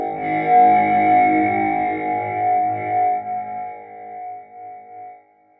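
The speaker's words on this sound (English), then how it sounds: "Do you hear these glitchy artifacts inside of this reverb tail?" A glitchy synth pad sample sent through Bitwig 4.3's convolution reverb with maximum pre-delay rings out in a long smeared tail full of stuttering digital artifacts, loud at first and fading away to silence.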